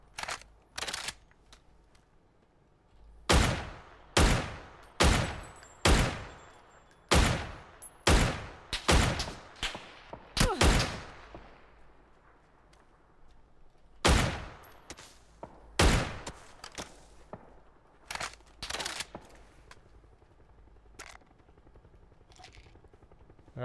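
Gunfire in a PUBG match: a rapid run of sharp, loud single shots in a steady rhythm, then a gap and a second, more scattered burst of shots, with no voices heard.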